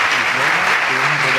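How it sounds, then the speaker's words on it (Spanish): Audience applause at a university conference hall after a presentation, a dense continuous wash of clapping with voices cheering or talking underneath. "Otro fuerte aplauso."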